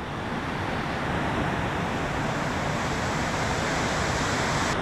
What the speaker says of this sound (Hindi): नेचुरल आवाज़ है ये झरने की।